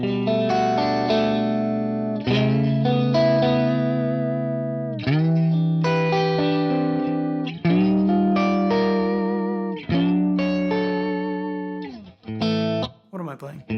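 Electric guitar played through an FM9 modelling a Carol Ann Tucana 3 amp rings out with a clean, chimey, open tone, strummed chords and arpeggiated phrases with a touch of chorus and reverb, loud and close, no talking.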